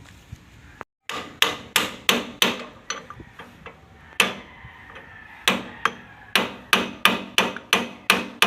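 Repeated sharp hammer strikes on metal while fitting an oil seal and ball bearing on an RL15 rotor for a Sunshine L1-215, ringing and close, in uneven bursts with short pauses between runs of blows.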